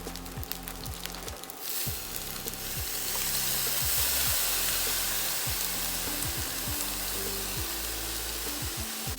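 Egg fried rice sizzles steadily in a hot pan while it is stirred and tossed, with repeated scraping strokes of a utensil over a continuous frying hiss, close and fairly loud, with no talking.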